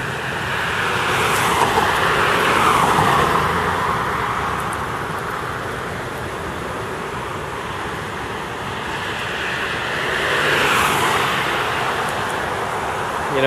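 Cars pass on a street near a stadium, heard as broad whooshing swells that build and fade twice, mixed with wind rumble and steady traffic noise outdoors.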